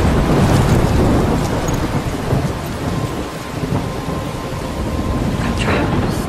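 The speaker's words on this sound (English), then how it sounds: "I'm trapped in a storm." Thunder rumbles through a heavy rainstorm in the adventure game Life is Strange, with dense rain hiss and gusting noise throughout and a louder crack near the end.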